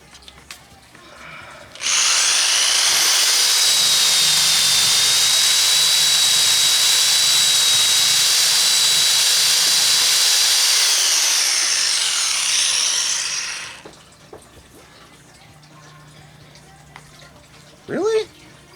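A power drill bores a hole while a ferro rod is being made, giving a loud, steady high-pitched whine that runs about eleven seconds and then cuts off, with faint handling sounds afterward.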